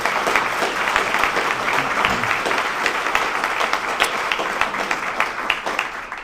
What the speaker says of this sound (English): If we could all give them one more round of applause as a group